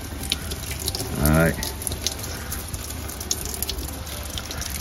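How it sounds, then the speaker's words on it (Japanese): A shower hose sprays water over succulent plants on a balcony, a steady running hiss throughout, with a brief spoken word partway through. "ただのね、ただの水やり動画、ただのシャワー動画になってますけどね"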